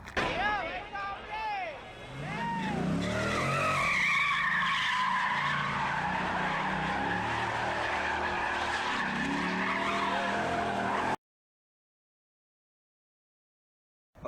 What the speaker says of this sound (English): And finally, you can do some wild drifting.